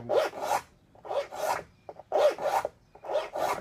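A hand file sharpening the teeth of a rip saw, rasping in a steady rhythm of paired strokes, about six bursts with short pauses between, close and crisp.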